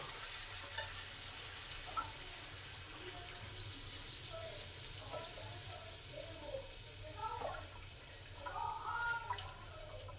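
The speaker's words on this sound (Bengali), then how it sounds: "এবার পরিমাণ মতন জল দিয়ে দেবো" Water goes into a pan of Bengali bata fish curry after the spices have been fried down, giving a running, bubbling splash over a soft sizzle and the scrape of stirring, with faint room noise beneath.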